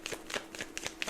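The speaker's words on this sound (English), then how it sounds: "One last shuffle just to clear out those energies." Tarot cards being shuffled up close, with five or six quick rustling bursts in a steady rhythm.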